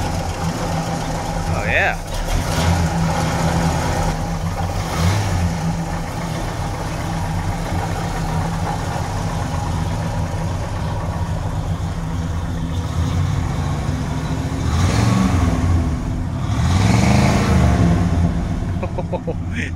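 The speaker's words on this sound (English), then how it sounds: "That is a Pontiac 316." A Pontiac 316 V8 swapped into a Toyota FJ45 pickup idles with a steady, rumbling loudness, then revs twice near the end in rising and falling surges, while people talk over it.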